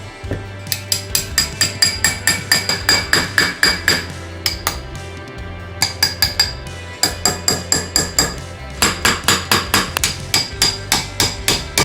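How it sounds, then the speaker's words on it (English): Tools strike hard against a plaster cast stuck in its mold of a Nerf blaster, in uneven bursts of sharp, loud knocks and clinks across the whole stretch, with a low hum underneath and no speech. "tried to crack all the excess plaster off and pry it out of the mold somehow"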